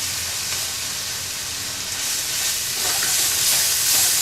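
Onions and spices sizzling in a pot for beef chili, a loud steady hiss of frying that grows slightly louder toward the end, with no talking.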